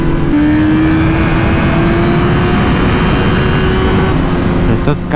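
A car accelerates steadily up a highway on-ramp, its engine droning loud and close with a rising tone amid road noise and a voice speaking.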